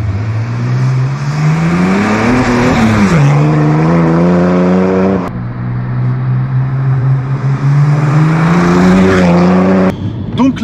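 The engine of a modified manual BMW 330d E90 tuned to 526 horsepower drones loudly from inside the cabin, rising and falling as it revs through two long pulls with a shift in between, ending in a brief clatter.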